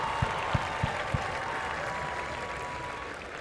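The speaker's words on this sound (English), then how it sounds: "Can we give a round of applause to Liema?" A few distinct claps followed by a faint, steady wash of audience applause at a newcomers' welcome event, fairly distant and subdued.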